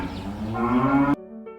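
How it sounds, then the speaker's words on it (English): A cow gives a long, loud, drawn-out moo close by that cuts off sharply, followed by a quieter tonal tail. No voices are heard. "Yes, you are great, the cow says."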